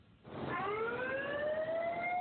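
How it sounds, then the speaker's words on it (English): A siren winds up from silence and holds a rising, steady wail, loud and continuous. "the signal that is used, usually a horn or siren, to notify personnel that an evacuation is required"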